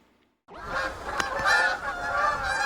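Loud Canada geese honking starts abruptly after a brief quiet moment, a dense cluster of overlapping honks from several birds, close and continuous.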